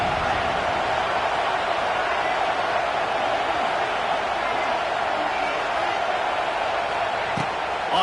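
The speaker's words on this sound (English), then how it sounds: "how nice is it to have the home crowd going absolutely bananas" Home crowd at a football game roaring loudly and continuously, a dense wash of cheering filling the stadium throughout with no breaks.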